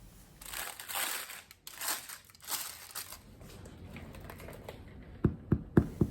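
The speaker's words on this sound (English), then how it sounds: "I can tell by the hollow sound that the bread is cooked through." A freshly baked sourdough loaf on a cooling rack is handled with rustling and crinkling, then tapped about four times, giving short, distinct hollow knocks close up at the end.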